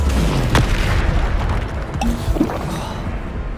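Bombarda blasting spells explode in Hogwarts Legacy on PlayStation 5, with a few sharp booming blasts over a busy, rumbling game background.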